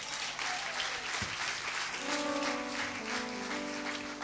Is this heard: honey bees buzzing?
no